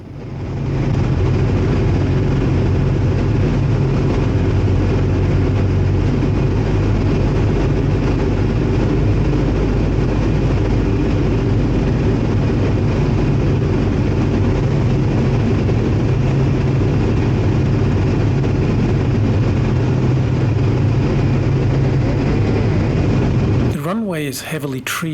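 A Falke SF25C motorglider's engine drones steadily in flight on a short hop near Kingaroy, a loud continuous low rumble with a strong hum that holds evenly for the whole stretch.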